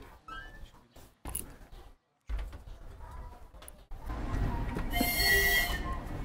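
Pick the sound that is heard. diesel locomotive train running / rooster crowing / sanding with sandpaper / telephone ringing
diesel locomotive train running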